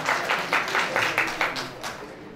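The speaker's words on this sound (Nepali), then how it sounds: "ताली बजाएर एक्सेप्ट गरौँ" An audience at the Nagarik Post 8th anniversary celebration claps in a steady, rhythmic burst of applause after a donation announcement, moderately loud and sustained for a couple of seconds.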